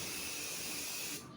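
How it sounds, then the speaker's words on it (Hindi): Hair spray hisses from an aerosol can in one continuous close, steady burst for over a second, cutting off near the end with no talk. "अच्छे से मैं स्प्रे करूँगी।"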